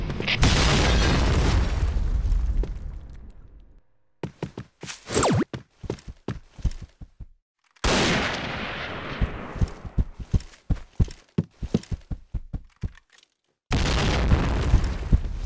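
Loud grenade blasts go off in Project Blackout, rumbling for several seconds each, with a rapid rattle of sharp gunshots between them.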